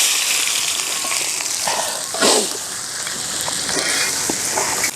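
Mutton fry sizzling loudly in a pan as it is stirred with a ladle, a constant close frying hiss broken by scraping and clattering strokes of the ladle.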